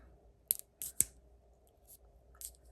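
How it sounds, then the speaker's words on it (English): Scissors snip through plastic wrap on a tarot deck with three quick, close, crisp cuts, followed by faint rustling of the wrap. "I'll keep my scissors handy."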